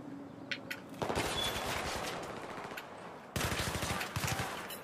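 Gunfire in the Battlefield 3 video game, two dense bursts of rapid automatic shots, one starting at about one second and another near three and a half seconds, loud and close, with a few isolated shots before the first burst and no talk.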